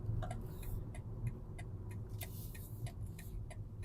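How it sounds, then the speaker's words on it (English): Car's left turn signal indicator clicking inside the cabin, a faint, evenly spaced run of sharp ticks over low engine hum, about eight clicks with no talk. "Signal left."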